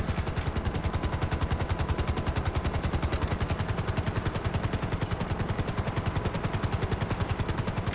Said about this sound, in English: I'm in an unarmed helicopter